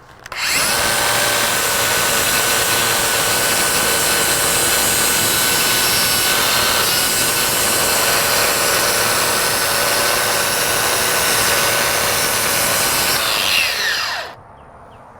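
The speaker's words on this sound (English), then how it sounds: "I'm just gonna wire wheel it off" A power tool with a wire wheel grinds a fresh weld clean, a loud continuous high whirring hiss that runs nearly fifteen seconds before spinning down.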